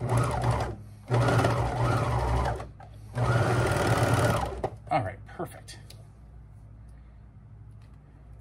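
A serger overlocks down the edge of kimono-style sleepwear fabric in two loud, steady runs separated by a short pause, followed by a brief stop-start burst before the machine falls quiet.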